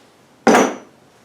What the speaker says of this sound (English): hammer it out.